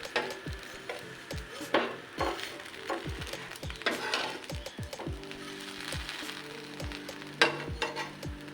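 Bread for a bread omelette sizzles and fries in a pan, with repeated sharp scraping and knocking of a spatula as the slices are turned, fairly quiet and without talk.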